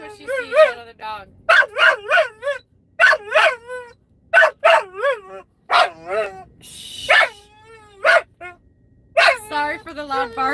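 A blue heeler barks at another dog outdoors, loud and close, in a long run of sharp, repeated barks that come in quick bursts with brief pauses between them.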